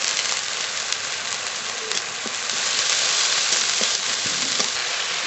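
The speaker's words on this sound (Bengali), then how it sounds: "মশলাটা প্রায় ভাজা ভাজা হয়ে গেছে" A ground paste of ginger, garlic and cumin, with tomato paste, salt and turmeric, fries in a pan with a steady, moderately loud sizzle, scattered with soft scraping clicks from stirring.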